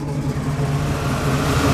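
Engine of a 1964 Chevrolet Malibu SS runs nearby with a steady, loud, low throbbing idle that rises slightly toward the end.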